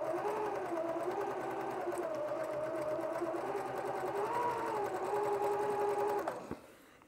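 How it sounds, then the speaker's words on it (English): Sewing machine chain piecing fabric along a seam with the presser foot, a steady close mechanical whirring hum with slight pitch shifts, running continuously for about six seconds before stopping with a clunk. "Now we're back over to the sewing machine"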